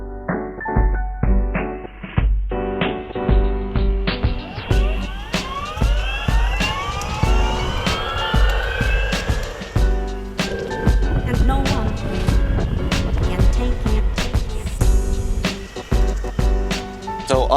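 A Boosted Mini X electric skateboard rolls along, its motor whine sweeping up and down in pitch over a steady rumble of wheels on pavement. Clattering knocks recur throughout, loud and close.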